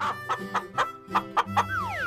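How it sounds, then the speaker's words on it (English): A chicken clucks in a quick series of short, evenly spaced calls, heard loud and close, while soft musical tones play underneath. "chicken"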